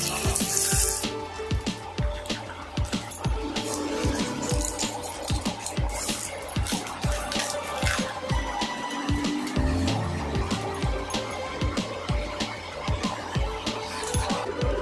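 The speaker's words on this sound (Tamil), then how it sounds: "இப்போது இருக்கிற அந்த 2 ஃபிஷ்ஷையும் வந்து நம்ம பொரித்து எடுத்துக்கலாம்." Two whole fish fry in hot oil, a continuous bubbling sizzle with rapid crackling pops up close, steady throughout with no talk.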